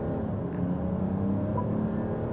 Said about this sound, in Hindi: Oh my god, 3 liter inline 6, 360 horses, 750 Nm of torque